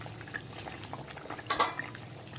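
Bata fish slipped into a quietly simmering bitter gourd and potato curry, giving one brief splash and bubbling burst midway through a low, faint background of gentle cooking.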